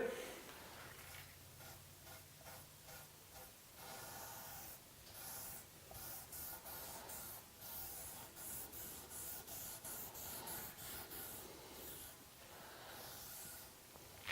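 Armor Seal waterborne finish coat is sprayed onto wooden end table slabs, with repeated close hissing bursts of a spray gun in a steady on-off rhythm.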